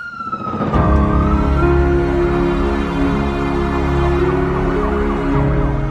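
A loud ambulance siren in Himachal Pradesh, India, wails continuously, its pitch sweeping up and down steadily and close by.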